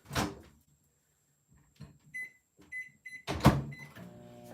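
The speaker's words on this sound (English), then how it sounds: "we're remelting those in the microwave" Microwave oven remelting chocolate for hot chocolate bombs, heard as a few short clunks and clicks of the door and controls, then brief high electronic beeps, close and fairly clear with no talk.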